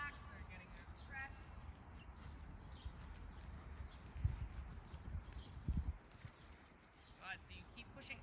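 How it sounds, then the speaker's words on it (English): Two relaxed horses snort and move during a riding lesson, their hooves clip-clopping softly on the arena footing while an instructor talks over them. "I love hearing that noise from both your horses."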